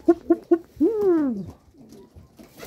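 Young pigeons calling nearby: three short soft coos, then one longer rising-and-falling coo, followed by quieter murmuring sounds.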